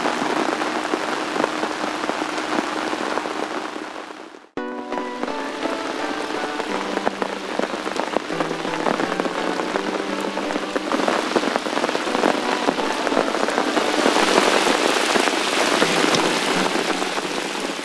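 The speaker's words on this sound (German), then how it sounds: "Es regnet immer stärker" Heavy rain pours steadily onto umbrellas at a carp-fishing spot, a dense continuous patter that grows stronger, with one brief dip partway through.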